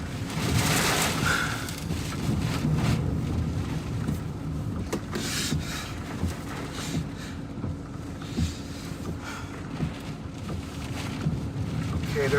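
Extreme wind gust from Hurricane Idalia howling and roaring steadily against the microphone, with thumps and rattles of buffeting throughout, loud and unbroken over the whole stretch.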